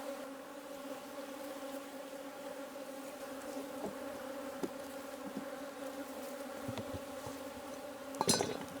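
Honey bees buzzing around hives in a bee yard, a dense steady hum of many bees close by with individual bees zipping past the listener and a faint clink near the end.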